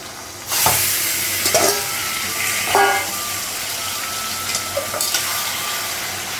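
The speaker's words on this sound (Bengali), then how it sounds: "পেঁয়াজটা ভাজা হয়ে গেছে, মাংসটা লাগাবো।" Mutton goes into a pan of fried onions and sizzles with a steady, close hiss, joined by a few clinks and stirring sounds.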